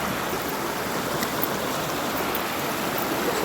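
River stream flowing near Syndicate waterfall in Dominica, a steady, dense rush of water heard up close and continuous, with no voices.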